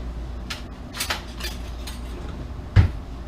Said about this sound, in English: we're going to cut our scones out